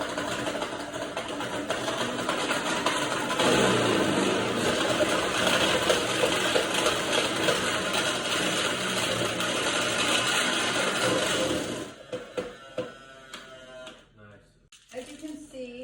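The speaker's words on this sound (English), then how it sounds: "this is an older food processor, so it's going to be noisy and it's going to try to bounce around a little bit" An older food processor grinding chocolate runs loud and steady with a rattling buzz for about twelve seconds, then cuts off, leaving a few quieter clicks and handling sounds.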